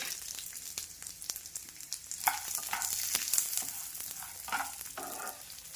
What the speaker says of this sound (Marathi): हे सोळस साहित्य दोन मिनिट भाजून घ्यायचंय